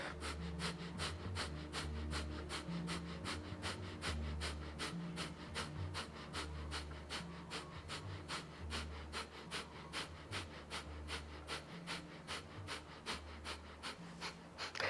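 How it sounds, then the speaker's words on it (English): Breath of fire in a live Kundalini yoga class, a steady run of rapid forceful exhalations through the nose at an even fast pace, close and continuous over a low droning music bed. "Continue with breath of fire."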